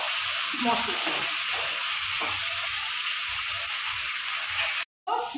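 Potatoes sizzle in hot oil in a pan as they brown to a reddish color, a close, steady frying hiss with soft stirring sounds that cuts out briefly just before the end.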